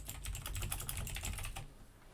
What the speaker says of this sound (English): and then typing in your note